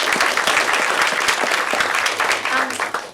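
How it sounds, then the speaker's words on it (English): Loud, dense audience applause at a panel event on poverty and racism messaging, continuous clapping that holds steady for a few seconds before beginning to thin out. "ask you to give another round of applause to our filmmaker"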